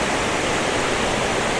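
Owharoa Falls in New Zealand, running high after heavy rain, roars as a dense, steady broadband rush of falling water, loud and close with no breaks.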